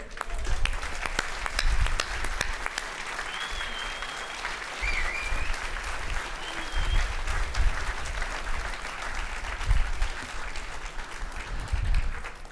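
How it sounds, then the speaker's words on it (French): An audience at an evening media awards ceremony applauds to welcome a young woman to the stage, a dense sustained wash of clapping with a few faint voices and whoops mixed in. "Et donc nous accueillons sous vos applaudissements mademoiselle Thaïs Descuffon."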